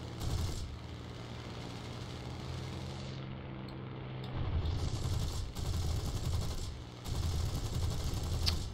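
Rapid bursts of aircraft cannon fire in War Thunder, from a British plane, layered over a steady engine drone, with several loud bursts in the second half separated by short pauses.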